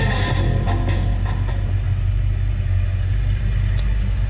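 A 1968 Chevrolet C10 pickup idles after a cold start, its engine producing a steady, loud low rumble with an even mechanical pulse throughout, no talking over it.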